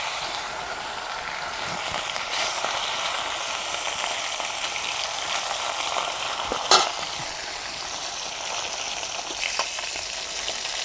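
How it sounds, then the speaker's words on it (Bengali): Fish rubbed with salt and turmeric frying in hot oil in a wok, giving a continuous crackling sizzle with a few sharper pops and spatters, close by and without talk. "মাছগুলো আমি লাল লাল করে ভেজে নেবো।"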